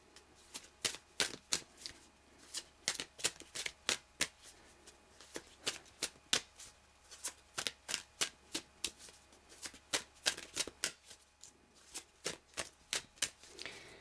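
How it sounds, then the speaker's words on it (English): Tarot cards shuffled by hand at close range, a long run of quick crisp riffling clicks and slaps in uneven bursts, with no talking. "I'll just pull one more romance card"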